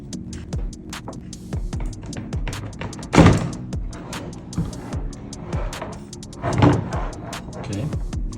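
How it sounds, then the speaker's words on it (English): A disassembled BMW side mirror adjustment motor runs with a whirring hum broken by repeated clicking and thunking, up close, with a couple of louder mechanical bursts. "that's the motor"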